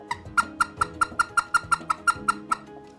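Short, sharp clucks from a Duck Commander Specklebelly goose call, about a dozen quick, evenly spaced notes in a rapid rhythm, close and clear with no talking.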